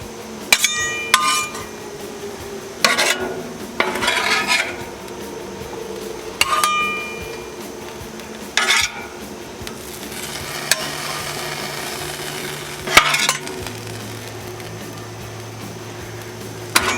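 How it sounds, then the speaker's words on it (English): Ribeye steak being piled onto a large sandwich on a Blackstone griddle, with sporadic metallic clinks and scrapes of a spatula against the griddle over a steady low sizzle, close and without talk. "Now let's just pile this steak"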